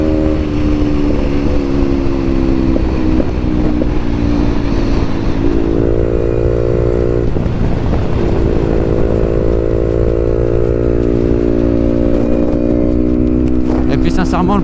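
A 2021 Beta 125 RR 4T LC motorcycle runs with its exhaust baffle removed, giving a loud, close, buzzy engine drone that idles, rises in pitch in stepped revs and settles back, with speech heard over it.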